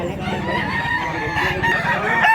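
A bullstag rooster crows close and loud, one sustained call lasting about two seconds over a steady farmyard murmur, with no talking.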